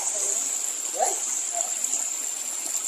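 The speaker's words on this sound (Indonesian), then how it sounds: "Sungai kecil sahabat." Water of a small river splashing and trickling nearby, with a couple of soft splashes over a steady rushing flow and a constant high insect-like hiss.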